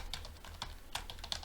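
A handful of quiet, close keystrokes on a computer keyboard, tapped in an uneven rhythm over a low background hum.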